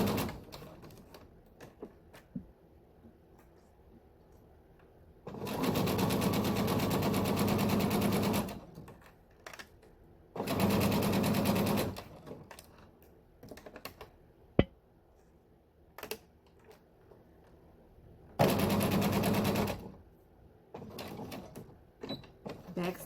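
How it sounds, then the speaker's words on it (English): Sewing machine stitching a zipper into fabric, with three separate bursts of rapid mechanical chatter including back stitching, separated by quiet pauses with light handling clicks and some talk. "Go ahead and back stitch, and then we're going to sew all the way down towards the other end."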